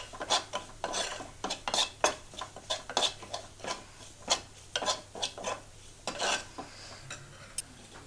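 Soya chunks sauté with chilli powder and Kashmiri chilli powder in a pan, a spatula scraping and stirring in quick, rhythmic strokes, close and fairly quiet, with no talking.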